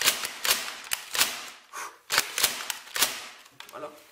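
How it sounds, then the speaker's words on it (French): Franchi SAS 12 airsoft shotgun replica pumped repeatedly with the trigger held, giving a string of sharp, close mechanical clacks and snaps in an uneven burst-like rhythm. "on maintient la gâchette, comment dire, allumée, et on pompe tout en maintenant la gâchette, ce qui donne quelques coups de ras"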